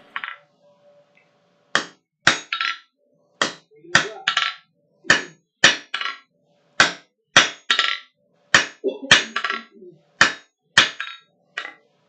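A hammer strikes an anvil while steel stock is forged to a taper, with sharp ringing blows landing in quick pairs and short bursts. The blows are loud and close, with quiet gaps between them.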